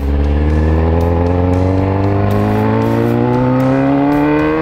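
A motorcycle engine, ridden by a first-time rider, revs steadily in second gear while climbing a small hill at low speed. It is loud and close, its pitch rising gradually with no talk over it.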